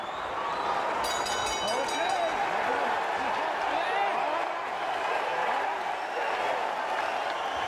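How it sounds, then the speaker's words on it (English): Boxing arena crowd roaring at the 1998 Arturo Gatti vs Ivan Robinson fight, a continuous dense wash of cheering and shouting from a large audience, with voices rising throughout and a commentator's voice under it. "Crowd loving it"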